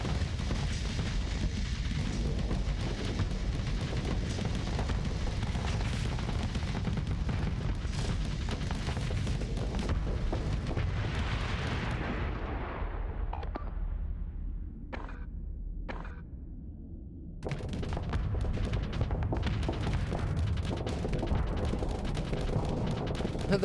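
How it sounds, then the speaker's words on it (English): Point defense guns raking a ship in the space combat game Starsector, a dense, continuous roar of rapid fire and impacts that thins into a few separate bursts before the heavy barrage resumes. "The point defense guns, like shooting up the ship, tiny damage."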